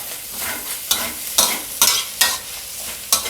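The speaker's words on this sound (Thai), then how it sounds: "หลังจากนั้นก็ผัดให้เข้ากันเลยครับ" Minced pork and chillies stir-fried for pad kaprao, with a loud, close sizzle punctuated by about six rhythmic spatula scrapes against the wok.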